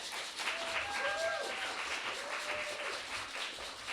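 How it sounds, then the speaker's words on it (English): Applause and cheering from a live audience after a performance, a continuous spread of clapping with brief vocal whoops over the top. "Another round of applause for Abby."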